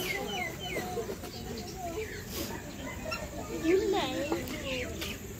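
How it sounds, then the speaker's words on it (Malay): Chickens clucking and chirping nearby at Zoo Negara in Malaysia, with scattered short calls over a busy outdoor background and faint voices. "Tu ayam kat tepi awak."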